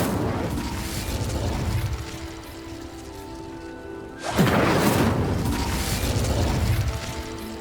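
An Incendio fire spell is cast in Hogwarts Legacy, a loud whooshing burst of flame erupting mid-clip over a dense, steady wash of game noise, roaring and then sustaining before tapering slightly.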